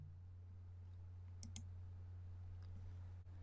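A computer mouse clicking twice in quick succession while selecting the Build option from the Tools menu in Sublime Text, faint sharp clicks over a steady low hum.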